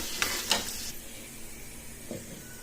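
Chana dal, ginger and curry leaves frying in tempering oil, with a couple of sharp stirring clatters at the start and a low steady sizzle continuing beneath, one more stir near the end.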